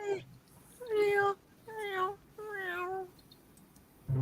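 Several cats meow one after another, four drawn-out, rising-and-falling cries, fairly soft and close, with short quiet gaps between.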